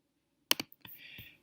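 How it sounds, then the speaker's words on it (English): Typing an email on a computer keyboard: a short burst of a few sharp, close key clicks followed by a softer tapping stretch, alone in an otherwise quiet room. "you can start typing an email right there"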